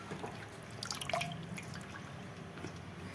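Fresh green fenugreek leaves swished and washed in a vessel of water, with close, light splashes and drips, loudest near the one-second mark.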